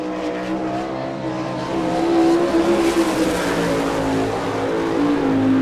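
A sprint car circles Rossburg, Ohio on a qualifying lap, its engine a loud, steady roar that climbs in pitch and intensity through the run, with no voices over it.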